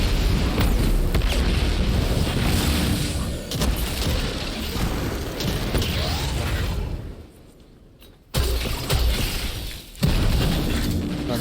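Grenades go off in a video game as dense, loud booms and rumbling blasts that merge with whooshes and mechanical noise. The din dips briefly, then a fresh burst kicks back in sharply.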